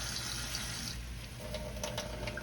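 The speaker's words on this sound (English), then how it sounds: "I'm gonna add some water." Water is poured into an Instant Pot with chicken bouillon for pork chop gravy, a steady splashing fill heard close up and continuing throughout.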